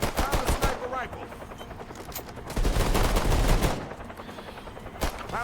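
Sniper rifle and other gunfire in the zombie co-op shooter Earthfall, dense bursts of rapid shots with sharp, loud repeated cracks over busy in-game noise.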